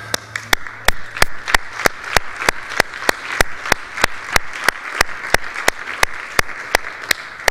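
Church congregation applauding after a prayer, steady dense clapping from many hands throughout, fairly close and lively, with no talking over it.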